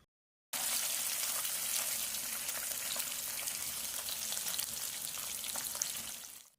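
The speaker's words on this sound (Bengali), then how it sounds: "গরম তেলের মধ্যে আমাদের মাছগুলোকে সুন্দরভাবে ভাজতে দিয়ে দেব" Pieces of rohu fish frying in hot oil give a steady, loud sizzle that crackles without a break, alone in the pan.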